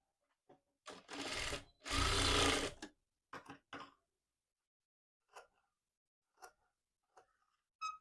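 A sewing machine stitching piping onto a blouse neck runs in short, close bursts. Quick clicks and taps of handling the fabric and machine fall between the bursts.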